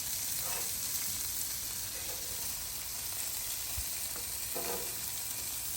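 A Reuben sandwich cooking on a Blackstone griddle, a faint steady sizzle holding throughout with a few soft taps and clicks from a spatula.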